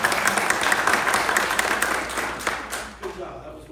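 An audience at a historical celebration of Lafayette's return to Murfreesboro, North Carolina applauds. Brisk clapping from a crowd is loud at first and tapers off toward the end, with a voice heard faintly under it.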